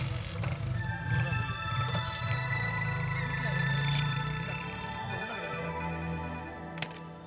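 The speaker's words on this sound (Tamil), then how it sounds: "அட, இவன் ஃபோன் அடிக்குதா?" A mobile phone ringtone plays as a repeating electronic melody in a Tamil film scene, holding steady for several seconds over a low background hum and other film sound.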